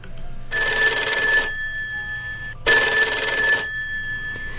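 Two long bursts of a telephone bell ringing, each about a second long with a short pause between, clear and close with no voices.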